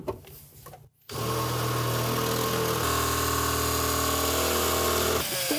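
A power drill bores into metal while aftermarket seat rails are fitted in a Nissan Silvia, running loud and close in one sustained stretch after a short pause, with a slight change in pitch midway and no talk.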